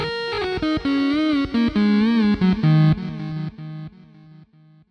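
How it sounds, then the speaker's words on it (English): Synthesized sawtooth lead played through an amp simulator, speaker cabinet simulator and delay, giving a distorted, guitar-like tone. A melodic line of sustained, bending notes rings loud and alone, then thins into quieter delayed repeats at the end. "this will run our saw wave through an amp simulator, a speaker simulator, and some delay, and the result sounds much more like a real guitar"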